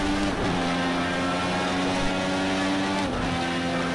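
A Dallara race car engine drones steadily with throttle held on, a continuous harmonic hum running throughout at moderate, constant loudness with no talk.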